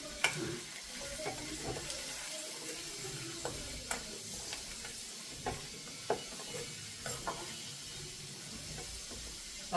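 Curry leaves frying in a pan, a continuous hissing sizzle with scattered sharp pops and crackles, close and steady throughout, with no talking.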